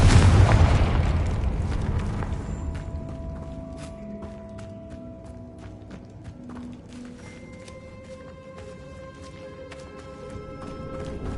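A Confringo spell explosion in Hogwarts Legacy, heard as a loud low boom at the start that rumbles and decays over several seconds, followed by scattered game sound effects and faint tonal chimes.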